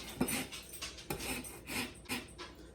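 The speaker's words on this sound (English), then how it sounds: "So I'm going to start with grating the zest of the lemon right into the bowl." Lemon zest grated into a bowl: repeated short rasping strokes scraping across a fine grater, close and fairly quiet, about six strokes in a steady uneven rhythm with no talking.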